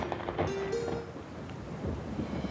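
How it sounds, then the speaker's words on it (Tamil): In a forest, rain patters steadily and thunder rumbles low in the background. A few brief whistling tones and rustles sit over the wet, noisy wash. "அந்த காட்டில் மழை பெய்ய ஆரம்பிச்சிருச்சு"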